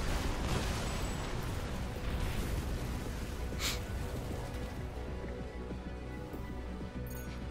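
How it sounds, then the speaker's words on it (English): Explosive weapon blasts in Armored Core 6 PvP combat from a bipedal explosive-thrower build, a continuous loud, dense rumble of booms and crackling bursts filling the whole stretch without pause. "That explosion is so weak."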